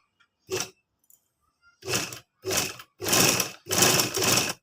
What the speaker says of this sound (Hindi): उसके ऊपर हमने सिलाई लगाना स्टार्ट कर देनी है। फ्रिल हमारी खुद ब खुद बनकर रेडी हो जाएगी।